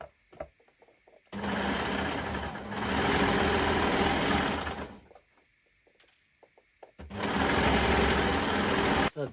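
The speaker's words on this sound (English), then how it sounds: "So I am going to go on my machine and I'll serge it" A serger sewing machine runs loud and close as it overlocks dress fabric, in two long steady whirring runs separated by a quiet gap with light handling clicks.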